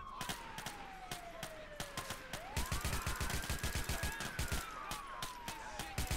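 Rapid gunfire in GTA IV crackles in quick, steady bursts alongside a wailing police siren that falls and rises, the shots sharp and fairly close over a constant background hum.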